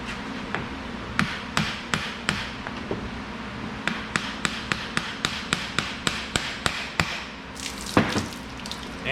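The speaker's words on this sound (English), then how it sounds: "Now take yourself one of these brass ass hammers. You got the bolts out, and we're just going to tap on the shaft." A brass hammer taps on the drive shaft of a Cadillac Escalade EXT with a 6.0 LS engine and AWD, bolts already removed: about two dozen sharp metallic knocks in uneven bursts, close and clear over a faint background hum.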